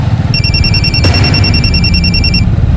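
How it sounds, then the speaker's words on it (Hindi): A mobile phone rings loudly and close by with a rapid, repeating electronic beeping pattern over a low background hum; a sharp click cuts through once. "तुम्हारा फोन बज रहा है।"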